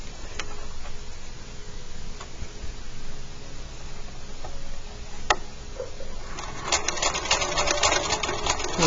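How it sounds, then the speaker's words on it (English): A sewing machine base-stitches fabric with a pocket piece laid face down, ticking faintly at first, then breaking into a louder, rapid run of stitching near the end, close by with no talk. "We're just base stitching this right now."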